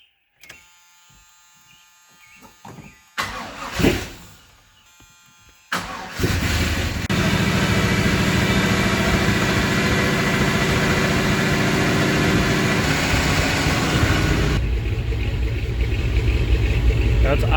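A truck engine cranks and catches after a few quiet seconds, then settles into a loud, steady idle with a brief change near the end.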